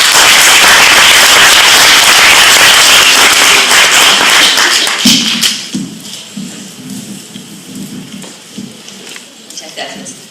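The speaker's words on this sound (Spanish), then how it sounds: "Un aplauso para la magistrada" Audience applause for a female magistrate at a university law faculty event, a loud dense burst of clapping that fades after about five seconds into scattered claps and quiet room murmur.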